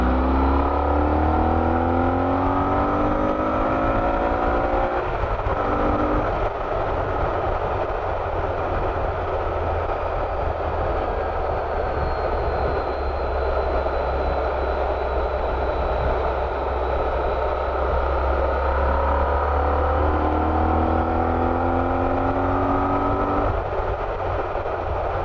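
A Honda ST1300 Pan European motorcycle engine pulls hard through rising, falling and rising revs in long sweeping surges, steady and loud with wind rush over a low drone and no speech.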